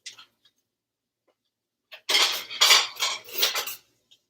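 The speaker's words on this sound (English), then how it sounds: "Let me get a bowl." Ceramic bowls and dishes clatter and scrape against each other as a bowl is pulled out of a stack, in a burst of rattling clinks lasting about two seconds after a near-silent pause, close and distinct, with no talking.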